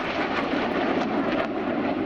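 Red Arrows jets fly display rolls at RIAT 2016, heard as a steady, broad roar that holds at an even loudness for a couple of seconds with no voices over it.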